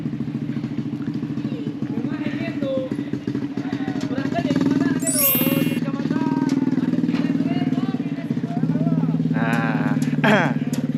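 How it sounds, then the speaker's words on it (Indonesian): A motorcycle engine hums steadily as it crosses a suspension bridge at Kampung Somang, heard at a moderate distance beneath continuous talking. "tuh di atasnya ada motor yang sedang melintasi jembatan gantung di Kampung Somang"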